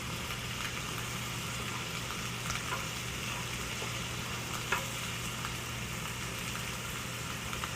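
A pot of curry simmering on the stove, giving a steady soft sizzling bubble with a low background hum and a few faint clinks, no voices.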